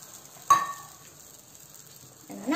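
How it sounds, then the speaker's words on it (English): Banana pancake batter ladled onto a hot pan gives a sudden loud sizzle that fades into a quiet, steady fry, then swells again near the end. "I'm going to put it onto the pan with a ladle"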